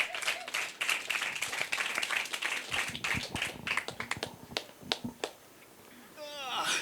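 Scattered clapping from a small audience for a speaker, individual sharp claps in an uneven rhythm, fairly close and moderately loud, trailing off before a voice speaks briefly at the end.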